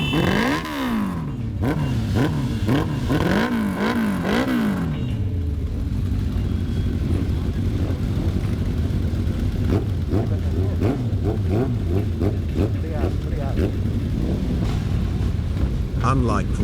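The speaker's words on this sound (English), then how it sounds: "it was time to start the engines." Motorcycle engines start and rev at a group ride meet in Oporto, a steady close rumble with repeated rising and falling throttle blips, some voices faintly present.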